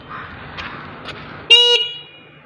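A single short, loud honk from a Honda CB Shine 125cc motorcycle horn, close by, after a quiet stretch with faint clicks.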